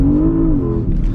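Porsche Panamera launching from a standstill at night, engine roaring loud and close with a rising then leveling tone, briefly unsettled as grip is lost.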